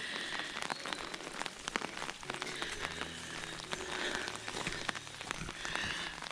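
Steady rain patters on surfaces around a walker by a river near a bridge, a dense, continuous hiss with scattered nearby drips and taps, close and fairly loud, with no talking.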